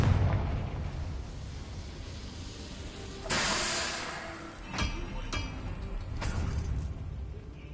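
Confringo blasting spell cast in Hogwarts Legacy, a few fiery bursts with hissing, crackling tails rising over a low rumbling background, spaced a second or two apart.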